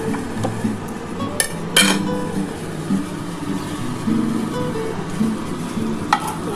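Oil and butter heating in a pan for butter chicken, with a low sizzle under clinks and scrapes of utensils against the cookware, fairly close and without talking.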